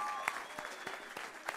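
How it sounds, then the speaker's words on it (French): Applause from the audience at a student eloquence contest in Tours, a short burst of scattered, fairly close clapping with uneven individual claps standing out. "on les applaudit bien fort"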